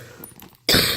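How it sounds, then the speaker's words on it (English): A single loud, harsh cough bursts out close to the microphone after a quiet stretch with faint background sound, from someone getting over a bad cough. "I'm just getting over a bad cough here."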